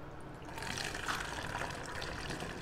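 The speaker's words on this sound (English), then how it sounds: "fill about half of it with distilled water" Distilled water pours steadily through a funnel into a container while mixing black-and-white film developing chemistry, a close, continuous trickling splash at moderate level.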